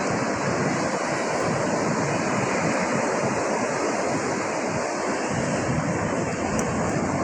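Moderate sea waves roll onto a beach in the morning, making a continuous full wash of surf with a windy hiss. The sound stays close and even, with no voices.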